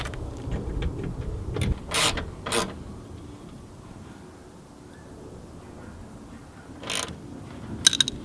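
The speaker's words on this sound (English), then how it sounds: "so I'm just gonna tighten these adjusting bolts" Adjusting bolts being tightened on a 2000 Honda Civic window regulator, a few short mechanical ratcheting and scraping bursts, close up, separated by quiet pauses.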